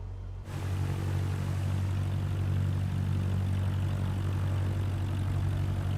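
Simulated propeller aircraft engine in Microsoft Flight Simulator 2024 spinning up, a steady loud low drone with a deep engine hum that starts abruptly and holds on, no voices.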